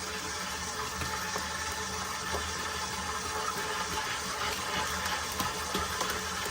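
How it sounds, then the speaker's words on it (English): Water drips into biga pizza dough churning in a running mixer, a steady, close whir of motor and wet sloshing that holds even throughout. "we'll just drip a little bit of water in"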